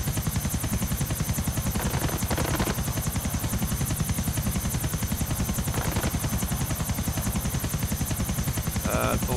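Helicopter in the video game GTA 4 flying steadily, a loud continuous rotor chop and turbine whine throughout with a brief burst of gunfire-like crackle near the end.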